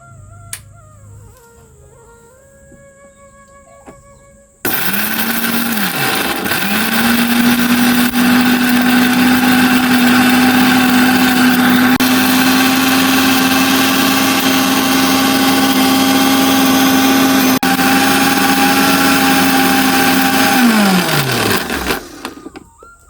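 A motorised grinder whirs loudly and steadily as it grinds odiyal for porridge, starting abruptly after a quieter stretch, holding a constant drone for about fifteen seconds, then winding down.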